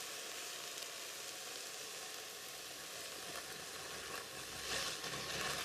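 Masala frying in a pan makes a steady, fairly quiet sizzle and hiss that continues without a break, swelling slightly toward the end, with no one talking.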